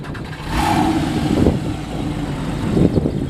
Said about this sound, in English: we're gonna start it up for you and let you take a listen, because these Porsche flat 6s,